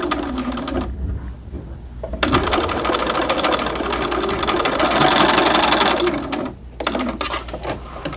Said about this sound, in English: I'm watching that little notch in my presser foot, and my waistband that was sewn in is right next to it, and that's how I can easily stitch in the ditch